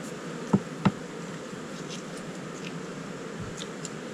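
A low, steady hum of many honeybees fills the air close to an open beehive, with a couple of soft knocks near the start.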